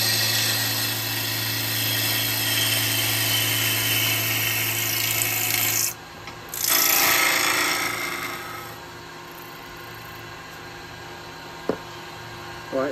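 A power tool makes a push cut on wood with a steady loud whine that suddenly drops off, surges back briefly, then fades to a quieter low hum, with a couple of sharp clicks near the end.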